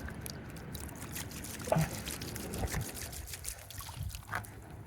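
Water splashes and trickles over rocks in a gold pan while panning for gold on the Arkansas River, a steady close pouring and dribbling that runs throughout with small surges.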